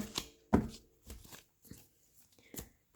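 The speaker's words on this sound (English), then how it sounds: "One more shuffle here." Tarot cards are shuffled by hand in a few sharp, close riffling bursts, separated by short quiet gaps, with no talk.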